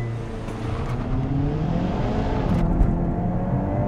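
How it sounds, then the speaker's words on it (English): A 2022 Hyundai Kona N accelerating hard from 0 to 100, its engine note climbing steadily in pitch and loudness across the run, heard from inside with no talking. "foot on the brake, foot on the accelerator, let's go"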